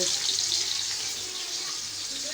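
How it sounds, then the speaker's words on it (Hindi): Water runs steadily from a kitchen tap as rice is washed, a constant close hiss with no voices. "चावल धो दिए मैंने।"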